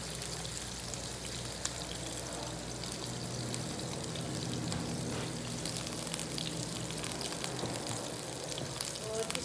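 Chopped onions go into a hot pan for dhaba-style masala bhindi, giving a steady, dense sizzle and hiss that stays fairly constant throughout, with faint clinks and no speech.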